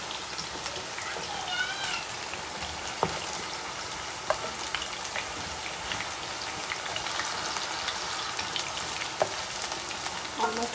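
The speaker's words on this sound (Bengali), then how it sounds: "আমি একটু আলুটা উল্টে পাল্টে দিচ্ছি।" Potatoes frying in oil in a kadai while being turned over, giving a dense continuous sizzle with occasional scraping clicks from stirring, close and steady for the whole stretch.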